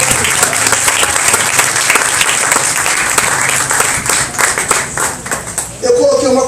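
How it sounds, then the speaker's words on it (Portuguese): Church congregation applauding loudly, with rapid, dense clapping from a crowd that thins out briefly near the end before swelling again, with a voice heard toward the close. "Quem acredita nisso, aplauda o Senhor."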